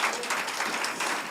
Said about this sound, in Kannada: ಅವ್ರಿಗೊಂದು ಚಪ್ಪಾಳೆ ತಟ್ಟಿ